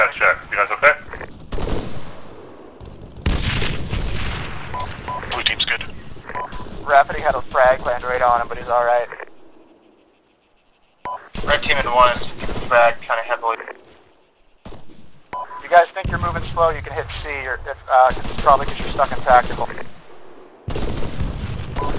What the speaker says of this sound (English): Sounds like we're taking shots from west around 250.